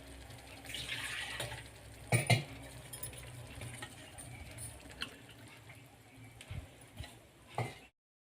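Water is poured steadily and fairly quietly into a pot of urad dal, with a few clinks of a vessel along the way and a soft knock near the end.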